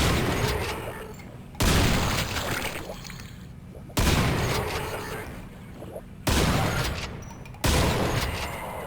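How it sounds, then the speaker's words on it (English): Heavy weapon blasts in the video game Quake go off as enemies are shot, four loud booming impacts at intervals of about two seconds, each followed by a long reverberant decay. "I want to just shoot these guys."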